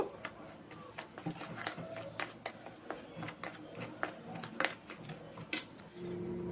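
Salt and sugar are stirred in a bowl for sweet mulpua batter, with a spoon clinking and scraping against the bowl in quick irregular taps, close and moderately loud; no talking.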